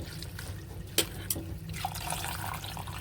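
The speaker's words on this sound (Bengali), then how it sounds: "জল দিয়ে ধুয়ে নিচ্ছি।" Small-leaved garden greens being rinsed in water, with soft, faint sloshing and a couple of sharp drip-like splashes standing out early on.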